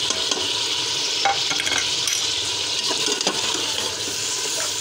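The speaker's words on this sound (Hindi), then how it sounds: "अब इसमें शामिल कर देंगे टमाटर।" Chopped tomatoes sizzle and fry in a pan as a spoon stirs them, a loud continuous hiss with scraping strokes close up and no talk.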